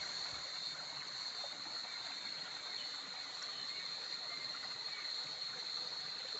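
Constant rushing of a flowing stream fills the scene, mixed with a steady high drone of cicadas, no voices.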